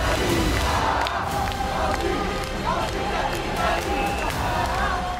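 A large crowd of protesters shouts and roars during riots in Paris near Bastille Square, a dense continuous din of many voices with scattered louder cries and thuds throughout.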